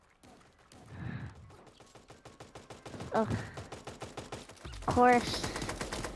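Minigun fire in Super Animal Royale: a long, rapid stream of clattering shots running under a few spoken words and game sounds, growing louder toward the end.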